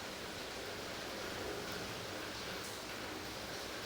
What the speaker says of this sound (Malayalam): പുറത്ത് നല്ല മഴ പെയ്തുകൊണ്ടിരിക്കുകയാണ്